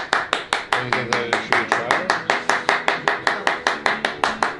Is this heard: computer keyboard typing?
no